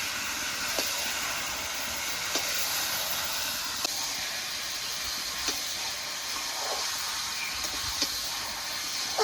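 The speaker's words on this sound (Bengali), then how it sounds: "হজম গুটিগুলো দিয়ে দিয়েছি এবার নেড়ে চেড়ে ভালো করে কষিয়ে নেবো মশলার সাথে" Hajmi guti is sautéed with spices in a pan, a continuous soft hiss and sizzle broken by faint, evenly spaced clicks of stirring, heard alone with no talk.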